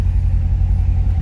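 A 2019 Chevrolet Corvette Grand Sport 3LT coupe idles close by with a steady, deep, low rumble and no voices.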